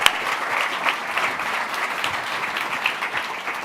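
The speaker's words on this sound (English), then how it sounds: "Can we give them a round of applause?" An audience at a university innovation competition claps warmly, a close, continuous patter of many hands that eases slightly toward the end.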